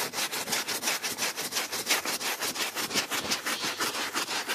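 Brisk, rhythmic scrubbing of a brush on dirty car carpet with Dawn soap, a fast back-and-forth rasp repeated evenly at close range.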